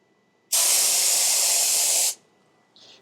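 Valvoline brake cleaner shoots in a hard jet onto cardboard from about 12 inches away, one loud, steady hiss of roughly a second and a half that cuts off sharply, then a faint brief puff afterward.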